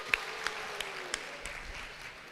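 Scattered applause at a stadium concert in Conakry, a few sharp claps standing out over a steady crowd wash, fairly distant and moderate in level.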